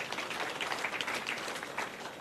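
At a Zetech University graduation ceremony, the audience gives a brief round of applause, dense clapping at moderate loudness that holds steady and then begins to thin.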